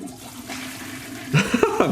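A toilet flushing in the mystery game Penelope Pendrick and the Art of Deceit, a gurgling water rush rising near the end after a quieter stretch, heard alone.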